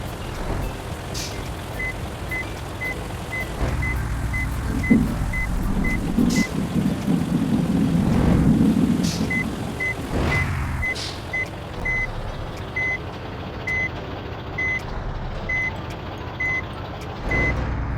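A bus in the Bus Simulator Indonesia driving game backs up, its reversing alarm beeping in steady evenly spaced pulses over a loud continuous engine rumble, with a short gap before the beeping resumes.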